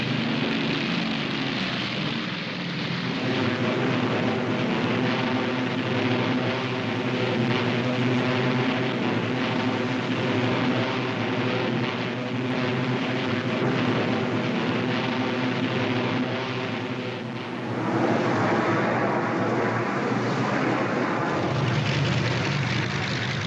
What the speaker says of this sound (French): La Luftwaffe envoie tous les avions disponibles en Russie pour organiser un pont aérien.